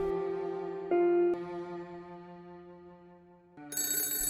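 A telephone rings with sustained tonal ringing whose pitch shifts between phrases, close and fairly clear, with no one speaking.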